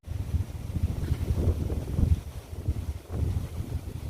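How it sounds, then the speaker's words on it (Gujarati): Heavy wind buffeting the microphone, a low rumbling roar that surges and eases in gusts throughout, with no other sound clearly standing out. "મારો અવાજ તમને થોડો થોડો આવતો હોય કેમ કે પવન અત્યારે બહુ જ છે"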